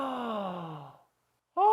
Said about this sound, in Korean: 여러분 한번 하품해 볼까요?